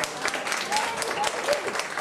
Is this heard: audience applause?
yes